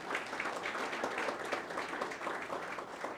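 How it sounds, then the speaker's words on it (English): Audience applause for a volunteer at an IT talk evening, a steady, moderately distant wash of many hands clapping that fills the whole stretch without voices. "Round of applause for Adam"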